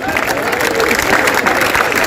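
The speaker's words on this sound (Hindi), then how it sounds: "आप लोग जोरदार तालियां बजाइए।" A dense, steady wash of crowd clapping and cheering at a Hindi poetry gathering in Patna, loud and continuous throughout with no pauses.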